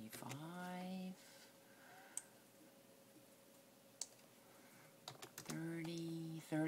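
A few scattered keystrokes tap on a computer keyboard during a quiet pause, with a person speaking before and after.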